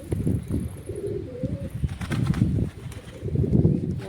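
Several pigeons coo in low, throaty bursts close by, with occasional wing flutters and scuffling throughout.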